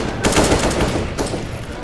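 AK rifles spray in the shooter CS:GO at a tournament final, two rapid bursts of automatic fire, the second one shorter, loud against steady crowd and game noise.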